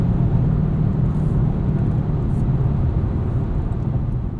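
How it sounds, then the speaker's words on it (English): A 2021 Jaguar XF P300 R-Dynamic AWD with a 300 hp turbo four-cylinder, heard from inside as a steady, loud, low engine and road drone without variation, no talking. "a 300 horsepower turbo 4-cylinder. Not a ton of character from this powertrain."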